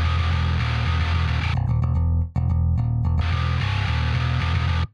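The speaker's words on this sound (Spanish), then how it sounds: "un poquito juego un poquito con la distorsión y las regiones de frecuencia y más nada, y suena así." Electric guitar run through a distortion amp-simulator plugin for rock and metal, playing a loud, dense distorted riff with a brief stop in the middle before the chugging resumes.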